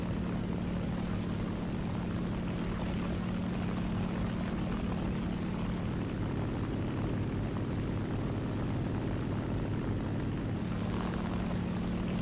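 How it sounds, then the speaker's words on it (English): A B-25 bomber from War Thunder passing over an airfield, heard as a loud, continuous droning propeller-engine roar that stays steady throughout, with no talk. "B-25 up there hitting our airfield"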